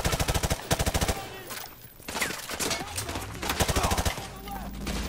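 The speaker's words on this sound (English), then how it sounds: "Shot him right through the curb." Gunfire in Modern Warfare 2 Remastered: rapid bursts of loud, close automatic shots in quick rhythmic volleys, separated by a brief lull, with a voice speaking faintly underneath.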